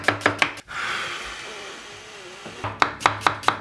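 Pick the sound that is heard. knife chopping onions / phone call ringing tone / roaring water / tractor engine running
knife chopping onions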